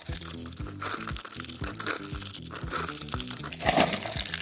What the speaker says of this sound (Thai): เมื่อเราขยำเปลือกถั่ว จนแหลกพอประมาณแล้วนะครับ